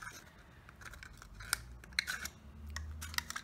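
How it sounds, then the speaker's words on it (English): Scissors snip through a plastic bottle in a few sharp, separate cuts, close and crisp, with a faint low rumble underneath and no speech. "I'm gonna cut the bottom first, like this. And then I'm going to cut the top at the opposite side."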